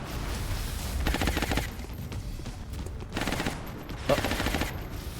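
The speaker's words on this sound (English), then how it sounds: "Taking suppression fire." Suppressive gunfire in XCOM: Enemy Unknown, sustained bursts of rapid automatic fire repeating in three loud volleys, with no talking over them.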